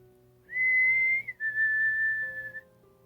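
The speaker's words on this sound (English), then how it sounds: "The whistle rang out again." A clear, eerie human whistle sounds in two long sustained tones, the second slightly lower, loud and close against a quiet background.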